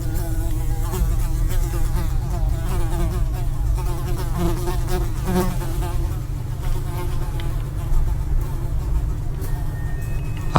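A fly buzzes loudly and continuously in a horror animation, its droning whine wavering in pitch throughout while a narrator talks over it.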